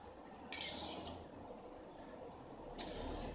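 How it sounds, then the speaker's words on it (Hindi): A spoon mixes raw papaya sambharo in a bowl, giving two short metallic clinks against the dish and a faint soft scraping in between, quiet and close with no speech. "अब इसे हम अच्छे से मिक्स कर लेंगे"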